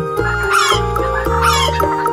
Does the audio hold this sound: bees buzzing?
no